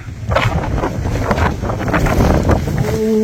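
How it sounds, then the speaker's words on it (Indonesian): Strong storm wind roars across an open slope of Mount Ungaran on the Perantunan route, loud constant buffeting and gusting against the microphone with no pause, a faint tonal whine appearing near the end. "Anginnya gede."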